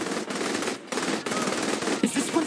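Shotgun fire in the Saints Row 3 Remastered video game: a dense, loud run of rapid blasts and gunfire bursts close up, continuing with barely a pause.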